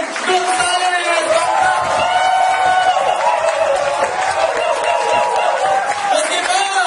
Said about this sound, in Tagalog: Milyong-milyong palakpak para kay power speaker!